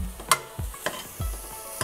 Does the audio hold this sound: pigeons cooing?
no